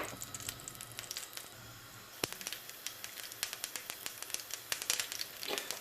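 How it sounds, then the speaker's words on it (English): Seeds popping in hot oil for a tarka for vegan dhal, with sharp, irregular snaps and crackles over a faint sizzle, some pops louder and closer than others. "once the seeds are starting to pop"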